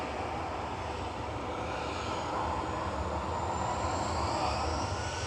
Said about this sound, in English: EasyJet to Milan departing now.